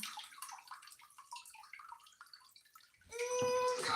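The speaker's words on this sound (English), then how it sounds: "I'm going to rinse this rock" Running tap water splashes over a rock being rinsed, starting suddenly after a quieter stretch of faint drips and handling noise, then gushing loudly and steadily close by.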